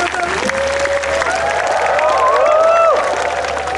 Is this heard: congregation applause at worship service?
yes